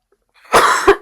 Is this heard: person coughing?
yes